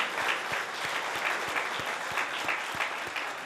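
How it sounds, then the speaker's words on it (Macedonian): A debate audience in Macedonia claps steadily for a team, with dense, even applause from a moderately distant crowd throughout and no speech over it. "Да ги поздравиме со еден аплауз."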